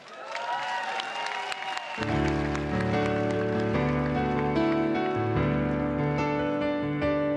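Applause from a theatre audience at a live cultural season opening, heard briefly under a tonal wash before music swells in at full volume and takes over.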